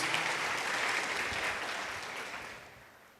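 A congregation at a church service claps steadily, dense and fairly distant, gradually thinning out over a few seconds.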